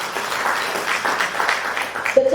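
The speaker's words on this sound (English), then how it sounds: "So clap for yourselves again." Workshop participants at a Rotary Club HIV and AIDS reduction project session clap for themselves, a fairly even patter of hands filling the room, with a brief tonal sound near the end.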